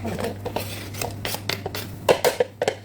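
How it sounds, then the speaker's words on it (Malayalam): A knife cutting beetroot lengthwise into slices, giving a series of short, close scraping taps on a board in an irregular rhythm, with no talk. "ആ ബീറ്റ്റൂട്ട് എടുത്തിട്ട് ഇതുപോലെ സ്ലൈസായിട്ട് കട്ട് ചെയ്തിട്ട് നീളത്തിലാണ് അരിഞ്ഞെടുക്കുക"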